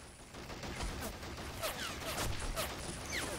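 Scattered squad rifle fire crackles in a Men of War Assault Squad battle, sharp irregular shots spread over a steady wash of combat noise, with a voice talking faintly underneath.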